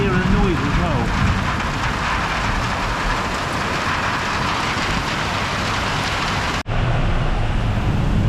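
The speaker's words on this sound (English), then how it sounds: "The rain is pouring down." Heavy tropical rain pours down in a dense, steady roar in Malacca, Malaysia, loud and close, with a brief dropout near the end before the downpour resumes.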